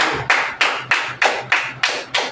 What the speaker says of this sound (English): Clap for this one too.